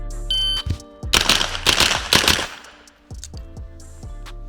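Rapid bursts of carbine shots during a timed shooting drill, sharp cracks in quick succession, then a few more spaced shots with ringing echoes afterward.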